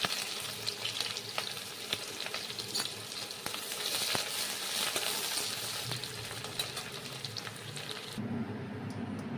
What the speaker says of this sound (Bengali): তেল গরম হয়ে গেছে, এবার আমি পেঁয়াজটা দিয়ে দেব।